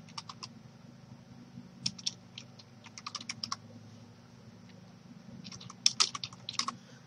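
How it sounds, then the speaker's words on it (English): Typing on a computer keyboard: quick bursts of crisp key clicks in irregular clusters with short pauses, close and fairly quiet, with no talking. "I'm typing to him."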